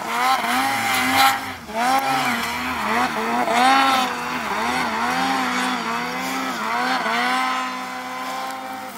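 A Lynx 146 snowmobile engine works hard through deep, handlebar-high snow, its loud motor droning steadily with repeated rises and dips in pitch as the throttle is worked. No voices are heard.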